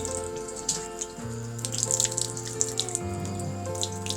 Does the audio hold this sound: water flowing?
yes